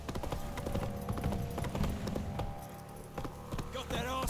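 Hooves of the horse Roach clip-clop at a gallop in The Witcher 3, a fast steady beat that fills the clip, with game dialogue spoken over it.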